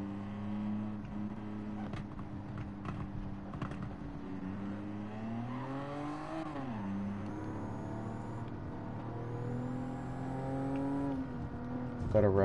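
A race car engine in the driving game Gran Turismo 7 idles and revs steadily, with its pitch rising and falling through the middle as the throttle blips, and faint clicks scattered over it.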